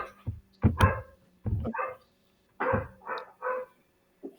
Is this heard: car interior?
no